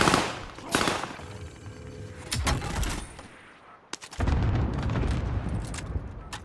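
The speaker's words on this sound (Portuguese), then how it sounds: "dá um tiro nele, Nick" Bursts of rapid gunfire in Call of Duty: Modern Warfare crackle in short volleys with sharp single shots between them, moderately loud with brief pauses.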